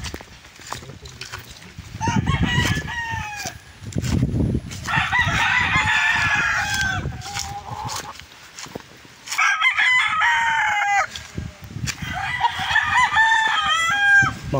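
Roosters kept as fighting cocks and stags crow repeatedly and loudly nearby, several overlapping crows in bursts with gaps, with clucking and someone talking between and under the calls.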